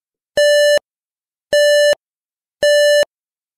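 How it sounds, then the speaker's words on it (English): Three identical electronic beeps at one steady pitch, each about half a second long, evenly spaced with short silences between. "ensure that you hear one single constant musical tone."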